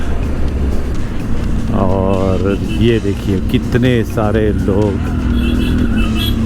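A steady engine drone from a road full of motorcycles heading to India Bike Week in Goa, continuous and loud under someone talking.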